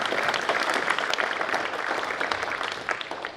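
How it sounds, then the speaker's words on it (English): Steady applause from an audience in a hall for graduating seniors at an academic awards ceremony, dense and continuous clapping throughout with no voices over it. "you can give them a round of applause if you want to"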